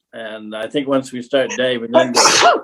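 Someone speaks briefly at a city common council meeting, then a single sharp sneeze bursts out at the end, close and loud.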